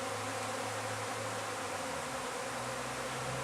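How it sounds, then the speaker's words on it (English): A swarm of honey bees buzzes steadily and close, a thick continuous drone of many wings with no voices over it. "So there's a bunch of bees."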